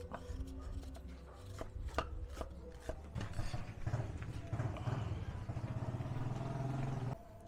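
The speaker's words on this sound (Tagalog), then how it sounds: "habang ginagayat ni mami siya yung sibuyas" A knife chopping onion for sisig and dinakdakan, rapid irregular knocks on a cutting board, close and fairly loud, with a steadier run of quick cuts in the latter half and no talking.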